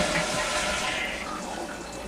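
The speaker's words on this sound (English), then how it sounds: "We have to flush." A toilet flushes with a steady rush of gushing water that holds for a couple of seconds and eases slightly toward the end.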